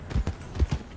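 A horse's hooves clip-clop on a hard surface nearby, in a quick run of uneven knocks that have no voices over them.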